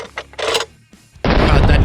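A .50 caliber rifle fires Mark 211 Raufoss specialty rounds at a door, one loud broadband blast that booms in abruptly after a quieter stretch of talk and sustains to the end.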